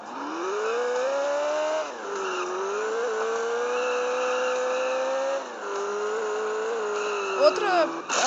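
A vehicle engine whines and revs in the video game Turbo Dismount, loud and close, with pitch climbing and dropping at each gear shift and a brief squeal near the end.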